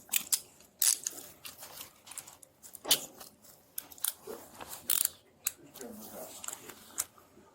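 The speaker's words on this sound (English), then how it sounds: "He's gonna swap out handcuffs." Police handcuffs ratchet and click in a series of sharp metallic bursts, close by, with people talking in between.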